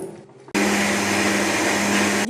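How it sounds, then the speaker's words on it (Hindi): After a brief lead-in, a kitchen blender starts up loudly, grinding a chocolate milkshake made with milk. It holds a steady high-pitched whirring roar without interruption and with no talking. "अब इसको ग्राइंड कर लेंगे।"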